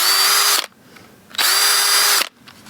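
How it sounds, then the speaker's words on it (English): A power drill whirs in two sharp bursts, each about a second long, with a short quiet gap between them, drilling pilot holes in wood. "One to drill a pilot hole,"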